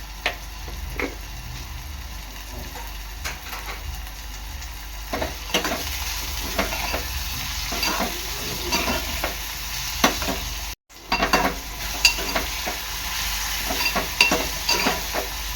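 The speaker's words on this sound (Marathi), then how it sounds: "कांदा आहे ना चांगला लाल होईसपर्यंत शिजवत घेणार आहे" Chopped onion sizzles and fries steadily in a pan for a Koli-style dried shrimp dish, with scattered scraping stirs over a continuous hiss and a brief cut to silence partway.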